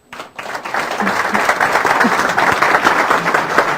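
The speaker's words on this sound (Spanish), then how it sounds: "Un aplauso" Audience applause closing a medical lecture on anesthesia at COMEXANE 2010, clapping swelling quickly from silence into a steady, full burst of many hands with a few voices mixed in.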